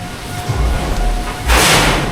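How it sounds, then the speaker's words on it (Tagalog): Gusty wind buffets loose tin roof sheets, with low thumps and rattles, then a louder rushing burst near the end. "umiingan yung yero yung bubong sobrang lakas ng hangin"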